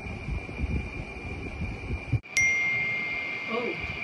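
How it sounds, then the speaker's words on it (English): A notification chime from Odoo accounting software signals an incoming payment, a single bright ding that rings out and decays over a steady background hum. "Oh, there's payment notification."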